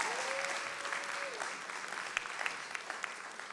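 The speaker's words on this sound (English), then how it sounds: "Let's give them a round of applause." Applause from a church audience for the audiovisual team, a steady wash of clapping at moderate distance, with a brief tonal sweep near the start.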